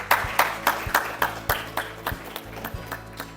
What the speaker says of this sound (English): Please give her one round of applause